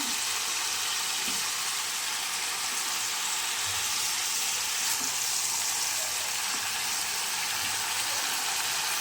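Spinach curry cooking in a pan, giving a constant loud hissing sizzle with faint soft stirring knocks underneath and no voices heard.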